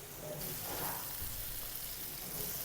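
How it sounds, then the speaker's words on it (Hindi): Onions and cumin fry in a pan with a steady, close sizzle that holds an even, hissing texture for the whole stretch. "देखें इस तरीके से माशाल्लाह प्याज हमारे पक रहे हैं।"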